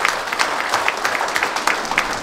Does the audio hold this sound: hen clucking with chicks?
no